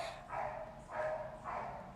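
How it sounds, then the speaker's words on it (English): A dog barking nearby, three evenly spaced bursts of yapping within two seconds, fairly loud against a faint background hum. "I want to kill the dog there."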